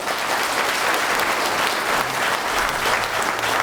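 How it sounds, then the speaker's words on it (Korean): A crowd of attendees at a Cheongsong County, Gyeongbuk community meeting claps steadily in a dense, sustained round of applause. "이만하면 박수 한번 쳐야 됩니다."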